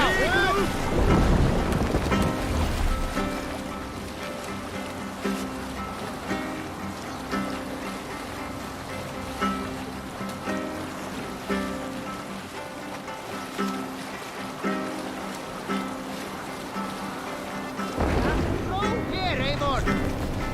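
A Viking longship sails across open water in Assassin's Creed Valhalla, with steady wind, rushing waves and creaking hull, and a voice speaking over it near the start.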